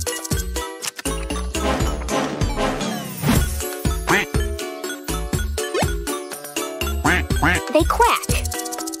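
Duck quacks rise in short bursts over bright, jingly music, with steady rhythmic hits throughout.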